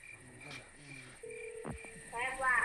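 Telephone keypad tones sound as a call is placed from a remote mountain village, a steady tone followed by a brief beep, with a voice speaking before and faint chatter nearby.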